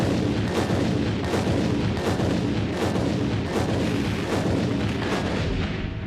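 Explosive charges detonate in a rapid series during the blowdown demolition of a large tower and its parking garage, each blast a sharp broadband crack rolling into the next, loud and continuous for several seconds with no speech.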